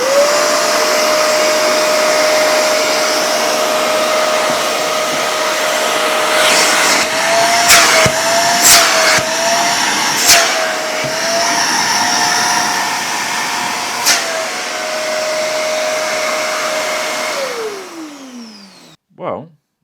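A budget £30 Day Plus vacuum cleaner runs loudly and close with a steady whining motor drone, its pitch wavering slightly amid a few clunks before it switches off and winds down near the end.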